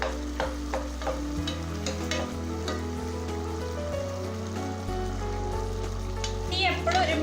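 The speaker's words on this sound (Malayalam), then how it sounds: "നമുക്ക് ഇടക്കിടക്കൊന്ന് ഇങ്ങനെ മിക്സ് ചെയ്ത് കൊടുക്കണം" Kappa (cassava) is stirred in a cooking pan over a medium flame, giving a soft scraping and sizzling texture that runs throughout beneath steady background music.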